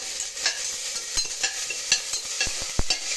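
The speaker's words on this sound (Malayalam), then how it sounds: "ഇഞ്ചി വെളുത്തുള്ളി പേസ്റ്റ് അതൊന്ന് ഇളക്കി കൊടുക്കുവാണ്." Ginger garlic paste frying in a pan, a loud close sizzle broken by sharp scraping taps of a spoon as it is stirred.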